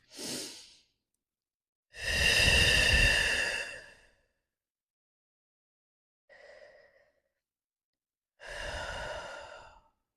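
Deep breaths during a slow-flow yoga practice in child's pose: a short exhale, then a long, full breath lasting about two seconds, a faint brief sniff, and another long exhale, close and clear with quiet pauses between.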